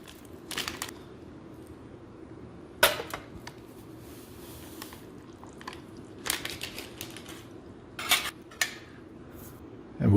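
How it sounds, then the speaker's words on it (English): A spork stirring a lemon-flavoured MRE drink, sharp plastic clicks and scraping taps in short bursts against the pouch or cup, close up with quiet gaps between, no voices. "And we'll give it a stir with the ForeignMRE.com spork."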